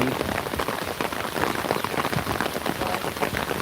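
Steady rainfall on the Chiknai river, a loud continuous hiss of close raindrops pattering on water and surfaces, alone without any voices.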